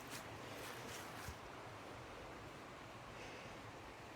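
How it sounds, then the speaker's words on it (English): Steady broadband wash of water flowing somewhere below a wooded Appalachian Trail route between Springer Mountain and Hightower Gap, distant and continuous with light wind noise, no voices. "I can hear the water."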